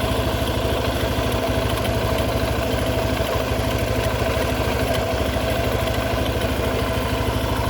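Yamaha Jupiter MX motorcycle engine idling with its TPS socket unplugged, a loud, close, steady mechanical putter with a faintly uneven beat.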